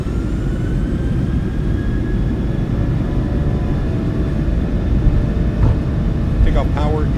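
A PMDG 737-700 in Microsoft Flight Simulator 2024 spools its jet engines up to takeoff power, a steady loud roar with a rising whine carried throughout, while a pilot speaks over the engine noise.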